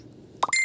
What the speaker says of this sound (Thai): เสียงการแจ้งเตือน